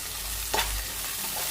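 Ginger garlic paste fries in a pan for fried rice, giving a steady low sizzle, with a single quick spatula scrape midway and a faint second stir near the end.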